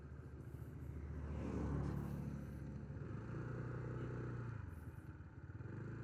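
A motorcycle cruises at high speed, around 80 to 100, its engine a steady low drone with a rising and falling roar, heavy wind rumble and some rattle throughout.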